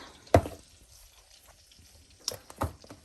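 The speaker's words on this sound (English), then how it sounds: "now let's mash" A few soft squelching thumps of potatoes being mashed by hand in a kitchen bowl, one sharp hit near the start and two more close together near the end, with quiet gaps between.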